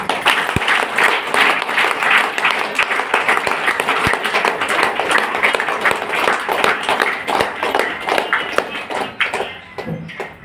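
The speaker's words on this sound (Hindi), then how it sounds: "इन बहन के लिए जोरदार ताली बजाइए" Loud, dense applause from an audience at a health product gathering, steady clapping that continues for about ten seconds alone, then tapers off at the end.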